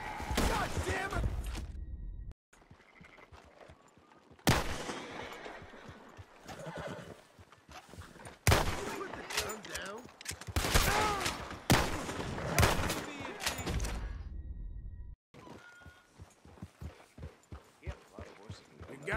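Gunfire in the Western video game Red Dead Redemption 2, several sharp shots scattered among horse whinnies, clip-clopping hooves and shouted voices, with loud bursts broken by sudden gaps.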